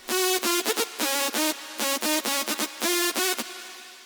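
Bright sawtooth-style synth lead in FL Studio playing a choppy rhythmic pattern of short repeated notes in quick bursts, loud and dry, alone.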